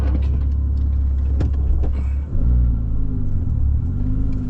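Porsche Cayman S 987.1 with factory exhaust, heard from inside the cabin, revs loudly with a deep, steady engine roar that dips briefly midway before climbing again.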